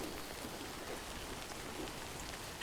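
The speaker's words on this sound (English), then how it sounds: "because it's raining." Steady rain falling in the Death Stranding 2 video game, a soft continuous patter of drops on surfaces, moderately quiet and unbroken with no voices.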